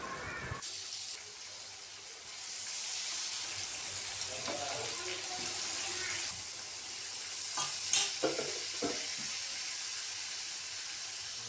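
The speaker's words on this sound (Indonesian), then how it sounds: "di sini mau goreng ayam semuanya" Chicken coated in flour fries in a home kitchen, giving a steady low sizzle under stirring, with a few brief clatters and splashes near the end.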